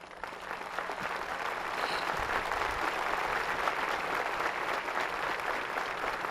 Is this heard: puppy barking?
no